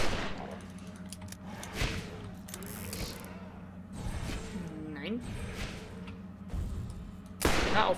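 Revolver shots in the video game Borderlands fire as a few sharp, spaced cracks over steady game background hum, with someone talking in German between shots.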